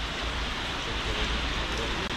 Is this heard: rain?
yes